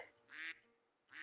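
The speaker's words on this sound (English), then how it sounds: "Duck," A farm duck quacks twice, two short, bright, nasal calls separated by a brief pause and heard close and clear against quiet.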